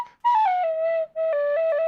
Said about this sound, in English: tin whistle.